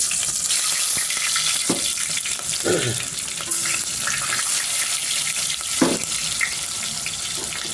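Onions hit hot mustard oil for sambar and fry with a steady, loud hiss, broken by a few scraping stirs of a utensil in the pan.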